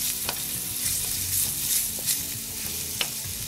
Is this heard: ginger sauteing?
yes